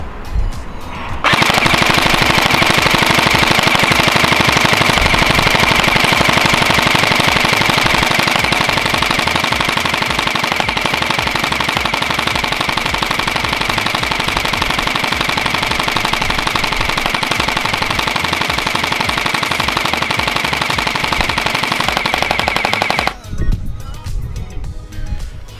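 LeHui AUG gel blaster firing full auto in one long unbroken rattling burst for over twenty seconds until the magazine runs empty, close and loud, then stops abruptly.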